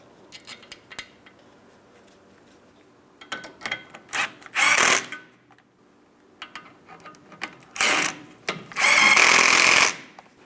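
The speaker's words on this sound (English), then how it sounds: "My torque wrench." A torque wrench tightens brake caliper hardware to 23 foot-pounds on the rear brakes of a 2015-2025 Ford Transit 250. Scattered light metallic clicks and taps give way to two loud bursts of ratcheting, rasping noise close by.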